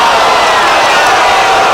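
A dense crowd of wrestling fans in an arena reacts with a loud, steady wash of booing and shouting that fills the space without a break.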